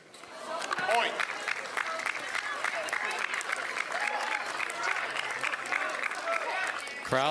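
Crowd at a beach volleyball match at the Newport Beach Open applauding a point, sustained clapping and cheering that swells after a second and holds steady, with a commentator talking over it.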